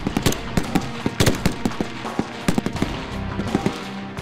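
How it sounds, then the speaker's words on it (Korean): Rapid rifle fire from a South Korean Army 2nd Division night shooting drill aimed at illumination mines, a loud, dense string of sharp cracking shots overlapping one another, with no pause throughout. "적의 야간 침투를 대비한 조명 지뢰를 적의 가시권으로 만들어 사격하는 조명 지뢰"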